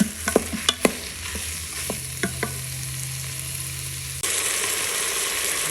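Ground beef cooks in a pan and is stirred for spaghetti sauce, a continuous sizzle broken by sharp utensil scrapes and taps early on, then a louder, denser frying hiss for the last seconds, no speech.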